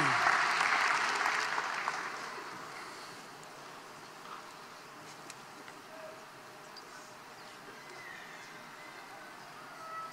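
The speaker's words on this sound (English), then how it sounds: "One more time for a round of applause." Graduation ceremony audience at Greenway High School clapping for three young women honored for academic accomplishments and speeches; the applause starts fairly strong, then fades into a thinner, distant patter over a hushed room.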